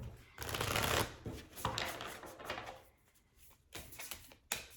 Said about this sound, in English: We're gonna draw some cards for you in May. We're gonna start with a Moonology card.